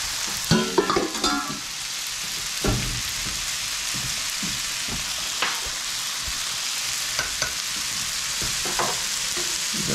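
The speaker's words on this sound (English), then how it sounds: "we just want to brown up our hamburger before we add it into our soup mixture" Hamburger meat browning in a pan for hamburger soup, a loud continuous crackling sizzle with a few utensil scrapes and knocks near the start.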